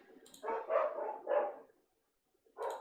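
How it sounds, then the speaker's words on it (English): Two pet dogs bark indoors in a few short, muffled bursts: three close together, a pause, then another bark at the end, fairly faint and without talk. "Those guys are barking."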